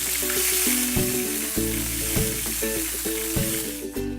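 Tuna sears in hot oil in a frying pan, a loud steady sizzle running the whole time with a few clinks and scrapes of a utensil against the pan, no voices.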